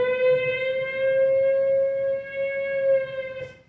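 A siren sound effect is played in a radio studio: a single steady, loud wailing tone that holds for about three seconds and then cuts off.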